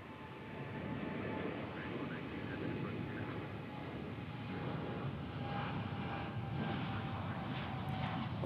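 An American Airlines Boeing 787 Dreamliner rumbles past at an airport as a steady, fairly distant roar that swells slightly as it goes on.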